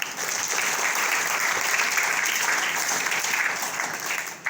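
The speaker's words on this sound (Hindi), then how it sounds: "मैं और जोर की ताली बजाना चाहूँगा" A crowd claps in steady, sustained applause at a government school event in Rurka Kalan, Ludhiana, full and even throughout before easing slightly at the end.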